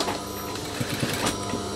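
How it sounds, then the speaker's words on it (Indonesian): A sewing machine stitches along the back waistband of a pair of jeans, running in a steady mechanical whir with small rhythmic knocks, fairly close and alone without any talk. "Jadi kita jahit aja sampai ke bagian sambungan selanjutnya teman-teman."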